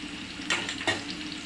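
Chopped garlic, onion and dried red chillies fry in oil until browned, giving a soft, steady sizzle broken by two brief stirring scrapes.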